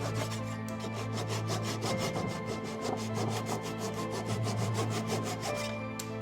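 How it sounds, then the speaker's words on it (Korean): A hand saw cuts through a wooden wedge on a self-portrait picture frame, giving steady, evenly spaced rasping strokes close by, roughly two per second, over a constant low hum. "프레임의 쐐기를 톱으로 자르고"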